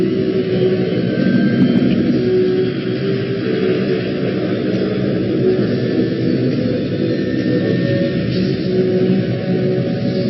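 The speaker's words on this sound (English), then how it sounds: "PanCon 257, you're clear for takeoff." A jet airliner's engines roar continuously during takeoff, a loud, steady, dense rumble with a high whine layered above it, sustained without letup and without voices.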